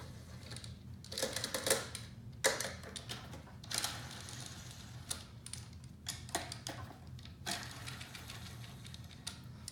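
A wrench rapidly ratchets during a MAKO360 install, giving quick bursts of close, fairly quiet clicking and ticking over a steady low hum, with no talking.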